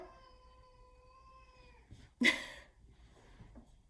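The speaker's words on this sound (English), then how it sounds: "My cat wants to go outside." A house cat meows to be let outside, giving a long wavering tonal cry followed after a pause by a short, sharp, louder meow, all fairly faint in a quiet room.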